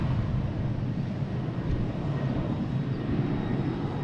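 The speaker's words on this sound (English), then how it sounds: "Next taking off is Delta E175 heading to Reagan." A Delta Embraer E175 regional jet taking off at Boston Logan International Airport produces a steady, heavy low roar heard from a distance, a continuous engine rumble with no talk over it.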